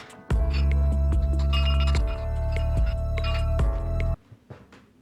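A restaurant waiter gathers 29 drinking glasses in hand, producing loud, close glassy clinks and ringing knocks in several bursts over a few seconds before cutting off abruptly.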